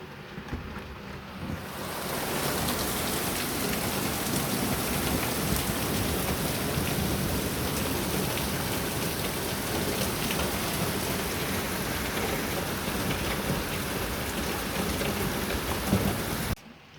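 Heavy rain pours steadily outside during a thunderstorm, a dense, unbroken wash of sound that stays close and loud from start to finish, with no voices.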